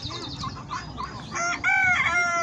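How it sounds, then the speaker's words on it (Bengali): Guinea fowl call loudly nearby, a run of harsh, repeated cackling cries that grows stronger toward the end, with no talk over it. "তিতি মুরগি বাংলাদেশে তিতি মুরগি"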